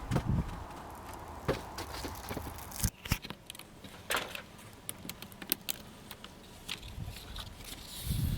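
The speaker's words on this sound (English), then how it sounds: "But first we're going to have to remove this paper." Close crackling and tearing as the backing paper is peeled off putty tape for a mobile home window in irregular bursts, with sharp snaps and rustles.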